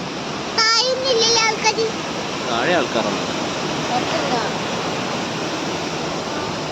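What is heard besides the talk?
sea waves near a lighthouse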